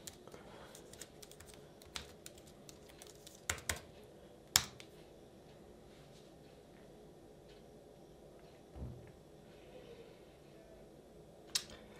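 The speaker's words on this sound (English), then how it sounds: "And now we're gonna type the password here." A Wi-Fi password typed on a computer keyboard, with faint, sparse key clicks and a few sharper taps scattered over quiet room noise.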